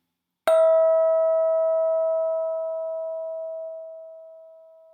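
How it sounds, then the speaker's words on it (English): A mindfulness bell struck once, ringing out clear and sustained alone in silence, its tone slowly fading away over several seconds. "Here we go with the sound of the bell."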